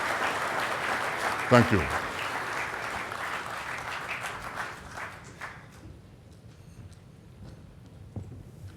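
An audience at a conference hall applauds after an inaugural address, steady broad clapping filling the space and fading toward the end, with a brief spoken thank-you near the start.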